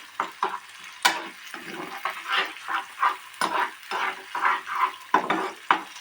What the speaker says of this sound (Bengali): এইভাবে মশলা থেকে যতক্ষণ না তেলটা ছেড়ে আসছে ততক্ষণ আমি এটা কষাতে থাকবো।